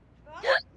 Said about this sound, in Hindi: देखो तो कितनी जानलेवा हिचकी आई है।